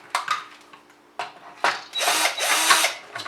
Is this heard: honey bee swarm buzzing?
no